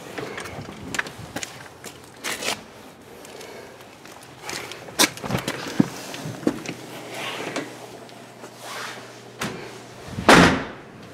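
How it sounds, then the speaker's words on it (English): A side door off a driveway into an unfinished basement entranceway opens and closes, with scattered thumps, knocks and footsteps before a louder clatter near the end, fairly close and with no talking. "Entering side door"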